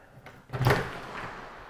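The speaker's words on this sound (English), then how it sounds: "Interior garage door open." Interior door between an attached garage and a house swinging open, one soft thump and rush of air in a quiet room, close by with no talking.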